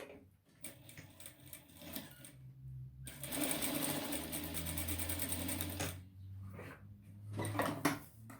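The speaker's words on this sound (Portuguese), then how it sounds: "E aí, então, a gente passa uma costurinha aqui." Sewing machine stitching embroidered trim onto a cloth diaper, with short bursts of close, rapid mechanical whirring separated by quiet pauses, then one longer steady run in the middle and a final brief burst.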